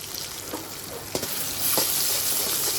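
Chilli, cumin, coriander and turmeric powders with ginger fry in a pan on low heat, a close hissing sizzle with a few soft stirring scrapes, swelling louder midway.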